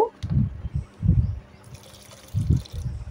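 Water is poured into a pot of oats khichuri in several short splashing bursts, close by and separated by brief pauses.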